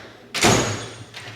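A tool chest drawer in a home garage slides open with one quick metallic rush and thump, followed by a fainter rattle, close and loud with no talk.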